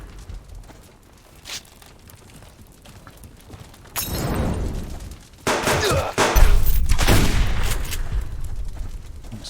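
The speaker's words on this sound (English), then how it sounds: "Rifle headshot." Rifle fire in a video game arrives as a few loud, sharp bursts in the second half, after a quieter stretch of faint ambient noise, with the shots ringing and reverberating.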